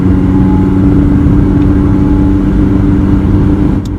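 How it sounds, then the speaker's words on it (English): A Mercedes-Benz W202 with the loud M111 four-cylinder engine pulls hard in second gear, a steady loud engine drone with a strong low hum that holds throughout and eases slightly at the end, with no speech. "And it's a loud engine. The M111 was known to be quite loud."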